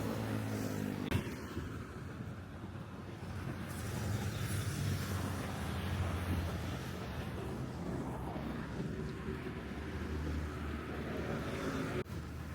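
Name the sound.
motorbikes and cars passing at Singapore–Malaysia border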